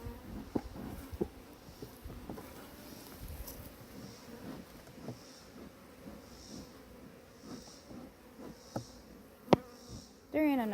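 Honey bees swarm around an opened hive during a father-and-son beekeeping session, a continuous buzzing drone with individual bees zipping past close by, scattered sharp handling knocks and clicks, and a louder burst of noise at the very end.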